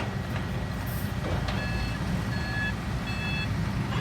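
Heavy trucks idle and rumble at an excavation pit where two excavators are digging, with a steady low engine drone and a truck's reversing beeper sounding in repeated bursts.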